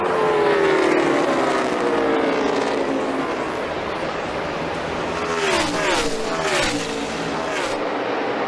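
NASCAR stock cars roar around the track on the final lap of a championship race, a loud continuous engine drone with passing cars whooshing by and rising in pitch, while an announcer talks over the noise.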